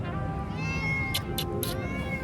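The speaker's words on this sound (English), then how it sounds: "see this little cat very angry" Angry little cat meowing and crying loudly and repeatedly, close by, with short sharp cries over a steady harmonic wail and a faint background hum.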